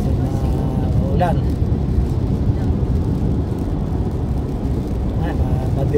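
A car drives along a dark, rain-soaked road with water spraying up against the vehicle, a loud, steady low rumble of tyres and spray that continues without a break.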